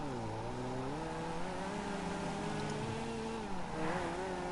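A Weeny Issi Classic car in GTA 5 revs steadily, its engine tone rising and wavering with a raspy, rally-like buzz, loud and close with no voices.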